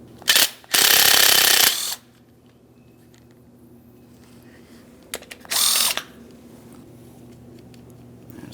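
A power tool loosens the window regulator mounting bolts on a 2007-2014 GMC Sierra, with a short burst, a longer loud whir, and a later second burst, separated by quiet room tone.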